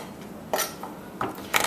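A knife rough-chopping crushed garlic on a cutting board, three quiet, sharp knocks spaced unevenly over a second and a half, close and faint with no talking.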